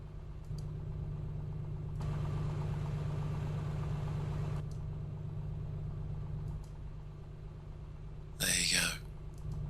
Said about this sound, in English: I want you to hear the engine noise